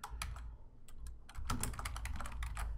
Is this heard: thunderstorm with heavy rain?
no